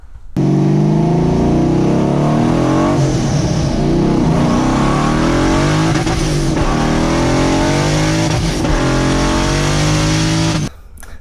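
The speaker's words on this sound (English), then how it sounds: "let's go for a quick drive" A turbocharged car on a test drive accelerates hard, its engine note climbing through several gear pulls with brief dips at shifts, loud and close from inside the car, no talking over it.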